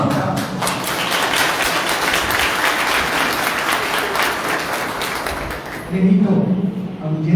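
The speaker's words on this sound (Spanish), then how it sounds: "Aplausos." An audience at the inauguration of a Guarani language month event and book homage breaks into loud, sustained applause, many hands clapping densely throughout, with a slight surge of crowd noise near the end.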